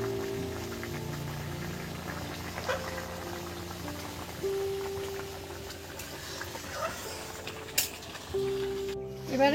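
A pot of lentils with vegetables bubbles at a steady boil, a soft continuous patter of bursting bubbles with occasional louder pops and clinks.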